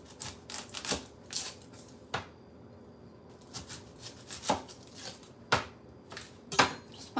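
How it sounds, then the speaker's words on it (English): A knife cuts an onion on a board, a series of sharp separate chops at an uneven pace, close and fairly quiet. "I'm also going to go ahead and get an onion cut real quick."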